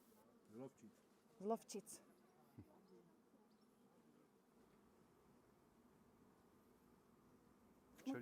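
Faint buzzing of a honeybee drone close by, in a few short bursts early on, then a quiet hum with soft rustling in the background.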